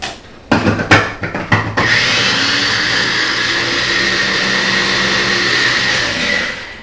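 An old electric food chopper working through cornbread dressing ingredients, a few quick stuttering pulses followed by a steady loud whirring drone that runs on for several seconds.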